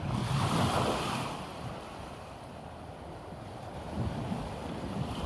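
Winter sea waves break and wash at Torrevieja, Spain, under gusty wind buffeting the microphone; a steady roar with surges at the start and end, no voices.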